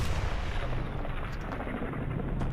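A shotgun blast from a Fallout 4 firefight lands as a heavy, booming report with a rumbling tail, loud and close, with no voices.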